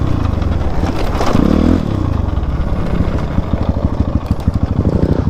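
A motorcycle on a rough offroad track toward Topthumki, Morang, roars near and loud, surging on the throttle early, then settling into a rapid pulsing engine beat with clatter as it climbs.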